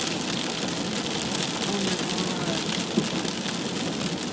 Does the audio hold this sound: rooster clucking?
no